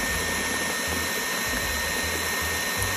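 An electric mixer whisks orange olive oil cake batter as milk is added: a steady, loud motor whir with a bright whining hum and faint rhythmic churning underneath, running continuously with no talk.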